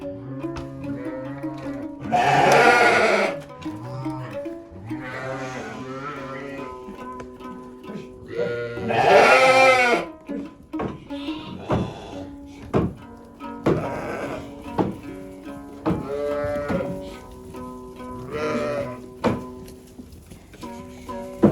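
Sheep and goats bleating in a village, several loud drawn-out calls from nearby animals, some overlapping, with quieter rural background noise and occasional thuds between them.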